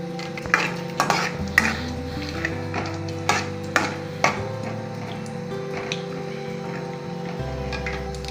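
Chana dal frying in hot oil in a pan for mango pulihora, a steady soft sizzle broken by a run of sharp spoon clinks and scrapes against the metal.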